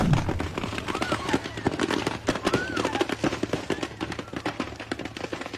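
Firecrackers going off in burned fireworks stalls: a dense, irregular string of sharp pops and crackles, moderately distant, with faint background voices.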